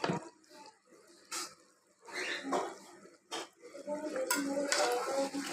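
A lid lifts off a cooking pot of katla fish and ash gourd curry, giving a few close metallic clinks and knocks among quieter kitchen clatter and faint bubbling.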